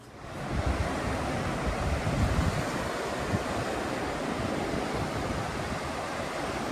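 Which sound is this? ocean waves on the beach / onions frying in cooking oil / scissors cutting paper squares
ocean waves on the beach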